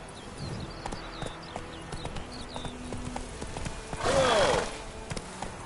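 Roach the horse galloping in The Witcher 3: Wild Hunt, steady rapid hoofbeats clip-clopping close by, with a brief whoosh of movement swelling near the end.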